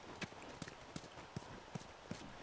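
Faint, evenly spaced horse hoofbeats in the video game The Last of Us clop along in a steady galloping rhythm, about three per second, over a soft background hiss.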